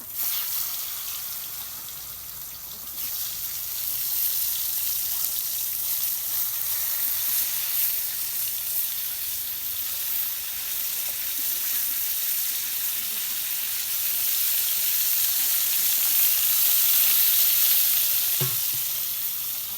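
Pointed gourd fries in hot mustard oil in a kadai, a steady bright sizzle that continues for the whole stretch with light stirring and no talk.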